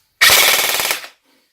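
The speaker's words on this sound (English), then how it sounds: "I said it was firing at 21 rounds per second, didn't I?" An airsoft MP5 replica on an 11.1 volt battery firing one rapid full-auto burst, close and loud, a fast buzzing rattle of shots lasting about a second before stopping cleanly.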